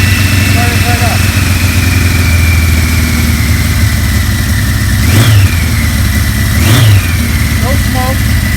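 A 1975 Kawasaki Z1 motorcycle engine with stock fuel valve and choke fully on runs at a loud, close idle, with two quick throttle blips rising and falling near the end.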